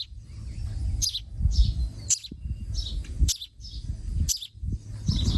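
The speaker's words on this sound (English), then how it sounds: "I can hear him chirping up high up there." A baby bird chirps in short, high bursts at regular intervals, about once a second, over a low rustling background.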